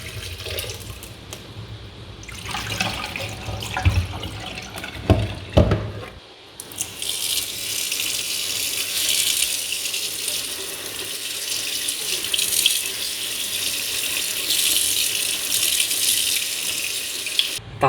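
A tap runs steadily into a sink to melt ice off a frozen rugged CUBOT KingKong Power phone, the water first splashing unevenly and then settling into a loud, continuous hissing flow.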